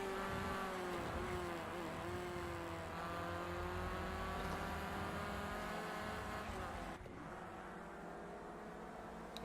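A pack of Renault Clio Cup race cars battling closely for position, engines droning and revving loudly without a break, with pitch rising and falling as they pass through corners.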